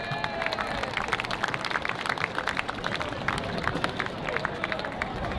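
Clapping from a crowd for the host club Bakers Creek at a senior men's Australian rules football cup day, a dense sustained patter of many hands mixed with background crowd murmur.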